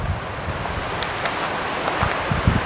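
Strong wind buffets the microphone while lake waves lap and wash against the shore at Many Glacier, a rough, steady outdoor roar with occasional splashes.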